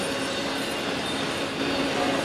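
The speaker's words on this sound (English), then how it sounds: "they got quite a long train for their journey down to North Baltimore." A long freight train, hauling containers and on its way to North Baltimore, rolls past in Michigan with a steady, dense roar of wheels and cars, loud and continuous with faint squealing tones.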